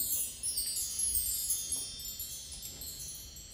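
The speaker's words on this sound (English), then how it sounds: "I just dragged in a chime sample that kind of plays at the start of the track" A glittery chime sample at the start of an electronic music track, heard as a faint, airy high shimmer of sparkling tones sustained throughout, with soft low rumble beneath.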